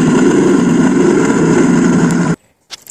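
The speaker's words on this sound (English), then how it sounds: "a little sound demonstration of the Harley sound" Electric four-motor AWD UTV prototype playing a simulated Harley motorcycle engine sound through a speaker, a loud, steady low rumbling idle that cuts off abruptly partway through, followed by near silence and a few faint clicks.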